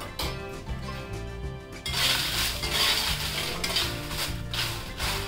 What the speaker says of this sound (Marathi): सर्वात आधी मी ही तर बेडगी मिरची भाजायला घेतलेली आहे